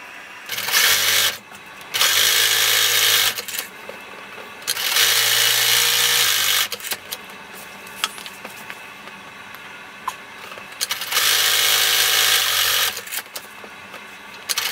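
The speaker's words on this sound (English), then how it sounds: "We're going to sew each side seam with a 3/8 inch seam allowance" A sewing machine stitches the side seams of a fabric basket in four bursts of rapid whirring, each a second or two long, separated by quieter pauses with small clicks and handling noises.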